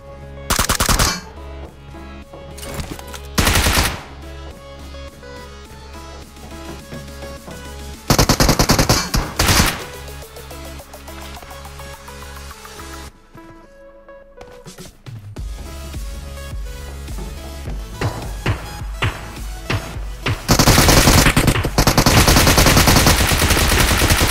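A Bizon submachine gun rattles in loud, rapid full-auto bursts during a video game firefight near Georgo, with sharp repeated volleys separated by brief pauses and continuous background gunfire.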